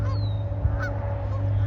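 Geese honk and squawk at one another near water, a few loud sharp calls over a steady low background hum.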